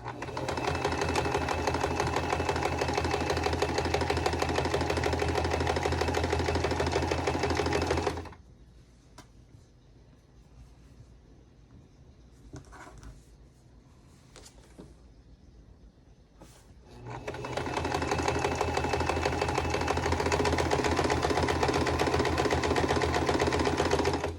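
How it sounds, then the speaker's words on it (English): A sewing machine making an odd noise even with no needle fitted runs loud and steady, stops for several seconds of near quiet with faint clicks, then starts up again. "it still makes the same noise with no needle in there"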